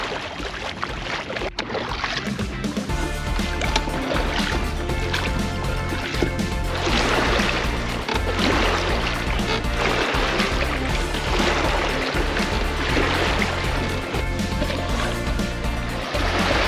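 A boat being rowed with oars on water, giving a steady watery wash with soft, rhythmic splashes and knocks roughly every two seconds, continuous and close.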